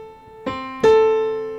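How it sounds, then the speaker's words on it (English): Two clear pitched notes played one after the other on an instrument, forming a major sixth, each struck cleanly and left to ring and decay, close and alone. "That's the sound of the major sixth compared to the minor sixth."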